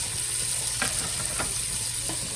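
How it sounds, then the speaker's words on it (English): Onion and celery cook in a pot for a creamy Tuscan chicken soup, giving a continuous close sizzle with a few soft stirring scrapes and no talking. "I let those cook a little bit before I add in the garlic and the herbs"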